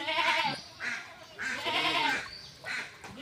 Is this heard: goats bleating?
yes